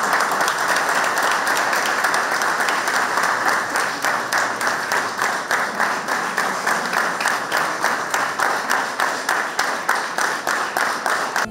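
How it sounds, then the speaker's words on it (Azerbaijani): A crowd applauds at a funeral send-off, at first a dense wash of clapping that turns into slower, rhythmic unison claps toward the end, steady and fairly loud. "O, alqışlarla son mənzilinə yola salındı."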